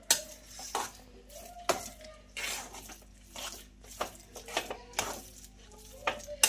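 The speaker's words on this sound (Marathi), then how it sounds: "हलकसं आपल्याला 2 मिनिटं मंद गॅसवर हे फ्राय करून घ्यायचं आहे" Spiced potato filling for vada pav frying on low heat in a pan, stirred with a spoon that scrapes and clinks against the metal in irregular bursts over a faint background sizzle.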